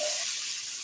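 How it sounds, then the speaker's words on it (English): Peppers hit a hot frying pan and sizzle loudly, a bright close-up hiss that fills the short moment with no talking. "Right there, nice sizzling hit."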